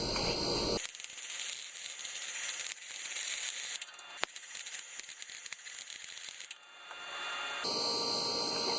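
Welding on the badly rusted frame of a 2012 Chevy Silverado 1500 4X4, a loud steady crackling buzz of the arc running for several seconds, with a brief pause and sharp pops, no speech.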